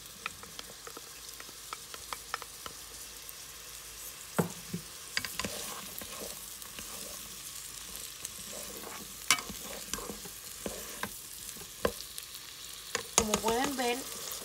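Chopped onion with half a small red and half a small green pepper sautéing in a pan, a steady close sizzle broken by scattered clicks and scrapes of stirring, with a brief higher squeal near the end.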